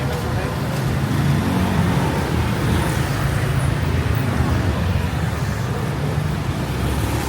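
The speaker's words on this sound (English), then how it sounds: "Seems like there's a lot of motorbikes for sure" Busy night street traffic of cars and motorbikes in Malé, Maldives, forms a loud, constant rumbling roar with engines passing continuously nearby, while people talk over it.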